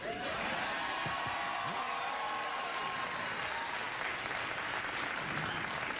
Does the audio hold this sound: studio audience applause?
yes